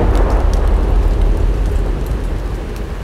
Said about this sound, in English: Rain happened.